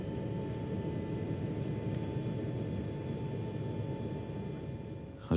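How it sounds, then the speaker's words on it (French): Steady engine and cabin hum inside an airplane waiting for takeoff, a broad continuous drone with a faint whine, unbroken for several seconds before a brief bump at the very end. "Attente du décollage, dans l'avion."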